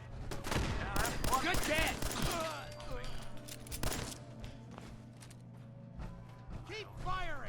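Rapid bursts of gunfire and clattering weapon mechanisms in Fallout 4 come in dense volleys at first, then thin out into sparse shots, with game characters shouting over the fighting.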